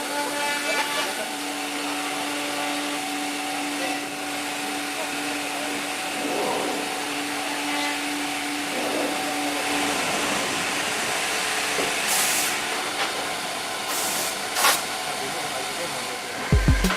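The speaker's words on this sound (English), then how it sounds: "it's trimmed by a computer numerically controlled cutting head" A computer numerically controlled cutting head trims a plastic part, producing a steady, loud mechanical whine with tonal hums that runs unbroken throughout.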